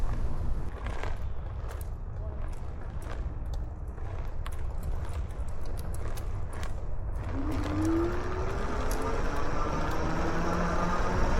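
An Andsky Apex 50 dual-motor fat-tire e-bike rides on pedal assist 5, with steady wind and tire rumble and clicking drivetrain, and a rising motor whine emerging in the second half.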